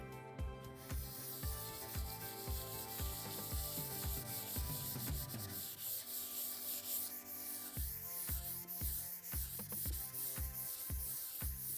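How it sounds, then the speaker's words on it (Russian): Steady back-and-forth rasping of 500-grit sandpaper sanding a Venetian plaster surface, in a quick even rhythm, close up with no voices. "я прошкурю всю поверхность 500-й наждачной бумагой"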